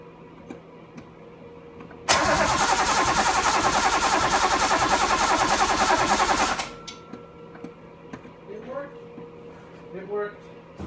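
Car fuel pump runs after a new install, a loud steady buzzing whir that starts abruptly, holds for about four seconds, then cuts off, followed by quieter clicks and faint ticking.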